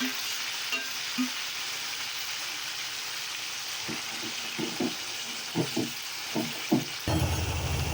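Browned onion and minced kheema frying in a pan, a steady sizzle throughout with a run of stirring scrapes and taps in the latter half.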